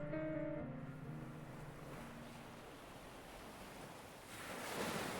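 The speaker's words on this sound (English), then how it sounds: "There, surrounded by the endless expanse of the ocean, James will say goodbye" Open ocean waves wash steadily around a fishing boat at sea, a soft continuous surf hiss with wind, faint and distant, swelling slightly toward the end, with a brief musical tone at the start.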